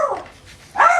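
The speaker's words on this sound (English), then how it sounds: "Apologies for the dog." A dog barks twice indoors, one sharp bark at the start and another louder one near the end, close and alone with no talk.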